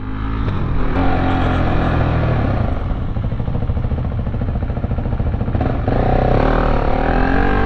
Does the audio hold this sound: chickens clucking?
no